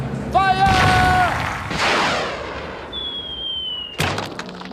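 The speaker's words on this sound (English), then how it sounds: "a man will be shot out of a cannon. 3, 2, 1, fire!" A cannon fires a man out in a children's cartoon circus act: whistling tones give way to a loud boom, then a long falling whistle as he flies, ending in a sharp crash.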